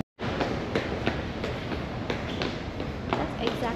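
A passenger train in Canada rolls along with a steady rumbling hum and faint rhythmic clicks, heard from inside the carriage while people talk nearby.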